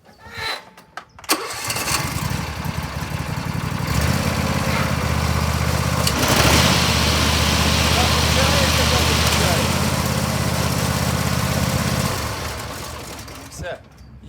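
A Husqvarna TS 242TXD garden tractor engine starts and runs at a steady, loud drone for about ten seconds before cutting off, close to the listener.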